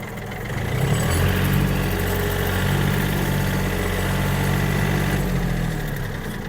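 A Yanmar US-31D mini tractor engine runs in reverse with a steady, loud diesel drone and rumble. Its throb holds even throughout before easing slightly at the end.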